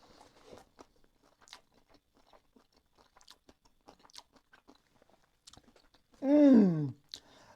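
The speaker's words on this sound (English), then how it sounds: "You can just hear how flaky that hake is." Close, crunchy chewing of battered hake and chips from a fish and chips shop, a steady run of small crisp bites and mouth sounds, followed near the end by a brief louder voiced sound.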